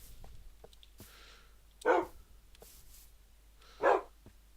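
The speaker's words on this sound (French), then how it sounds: "D'autres chiens?" Dogs give two loud, separate barks about two seconds apart, each standing alone over a quiet background with a few faint ticks and clicks between them.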